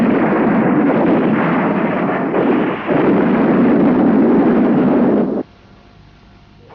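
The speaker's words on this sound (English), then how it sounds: "the Biafrans reply detonating Obunigwe mines with devastating effect" Loud, continuous rumbling blasts from mine detonations and artillery fire in Nigerian Civil War combat, a dense roar lasting several seconds before cutting abruptly to near silence with a faint low hum.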